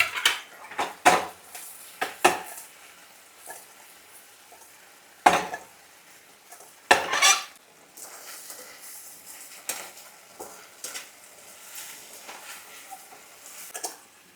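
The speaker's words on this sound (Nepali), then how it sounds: "यसरी टस गर्दै गर्नुपर्छ यो सबैसँग भिज्ने गरी।" Fried prawns are tossed through Manchurian sauce in a pan, making quiet scraping, clattering utensil and pan knocks at irregular intervals over a soft sizzle.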